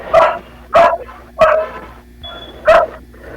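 A dog barks four times in a slow, spaced rhythm, loud and fairly close, with quiet pauses between each bark.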